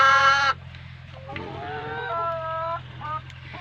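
Hens in a coop at egg-collecting time give a short loud squawk, then a run of drawn-out clucks and calls close by, with low background hum and no clear talk.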